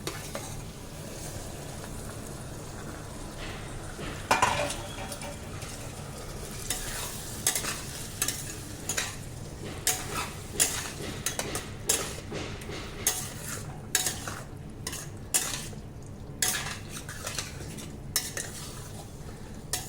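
Kaleji liver curry with ginger garlic paste stirred in a sizzling pan, a steady frying hiss under repeated close spoon scrapes and clinks that come faster toward the end.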